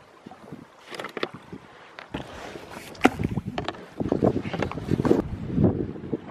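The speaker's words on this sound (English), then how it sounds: "blowing about a 15 knot northerly right now" A 15-knot northerly wind blowing at sea around a small fishing boat, gusty buffeting against the microphone with water sloshing and hull knocks, rising toward the end, no voices.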